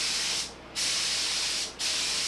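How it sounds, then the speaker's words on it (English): A spray gun set to a horizontal fan lays medium brown walnut stain onto wooden table parts in two steady, loud bursts of hiss with a brief pause between. "I got the gun changed over to horizontal spray here."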